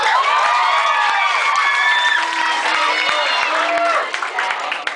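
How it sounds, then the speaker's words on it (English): A crowd cheering and clapping for Samantha, loud overlapping shouts and whoops with scattered claps, fading slightly toward the end. "Can we give a big round of applause for Samantha?"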